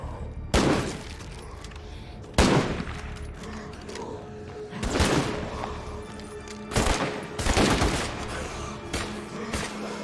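Bursts of gunfire aimed at a bloater in a video game, fired in about five loud volleys spread across the stretch, each sharp crack trailing into a ringing tail over a steady background hum.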